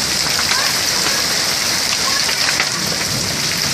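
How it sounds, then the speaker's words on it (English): Large hailstones pour down in a dense, loud, continuous clatter with no gaps, while people talk excitedly over it. "look at these big hail balls coming down."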